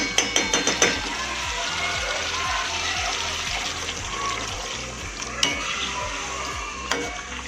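A few metallic taps on a pot, then water poured into a pot of yam (suran) for cooking, giving a steady, loud hissing rush that continues for several seconds.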